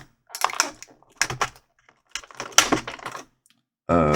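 Small plastic ties holding a toy figure to its package are cut, giving a few sharp, close clicks and snips spaced apart, followed by a brief steady tone.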